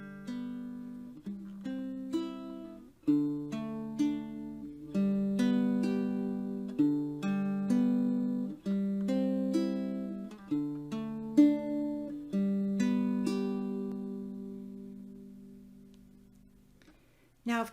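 Ukulele fingerpicking exercise played at a quicker pace, plucked notes in a steady repeating pattern with short rests, soft and close, with no voice over it until a final ring-out.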